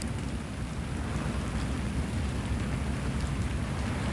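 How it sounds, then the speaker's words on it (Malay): Dense, steady downpour of heavy rain, a constant hiss and patter with no pauses and no voices. "Hujan lagi lebat."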